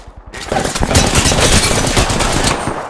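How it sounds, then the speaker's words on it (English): Rapid automatic gunfire from an Apex Legends match, a dense stream of loud close shots that starts abruptly after a brief quiet moment and holds steady to the end. "Shooting."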